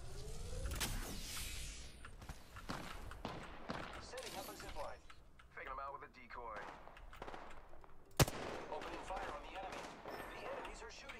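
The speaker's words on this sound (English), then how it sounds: "I'm taking fire." Gunfire in the battle royale shooter Apex Legends: bursts of rapid shots and sharp single cracks, with one loud close report near the end, while a player talks over the action.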